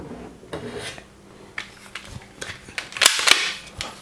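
A toy AWM sniper rifle that fires ball bullets gives a few soft mechanical clicks and rattles, then two sharp, snappy pops in quick succession near the end, all close and with no talk.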